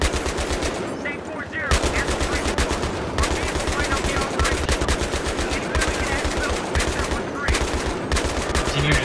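Gunfire in the Battlefield 3 video game, loud and close, with rapid sustained machine-gun bursts broken by a few short pauses.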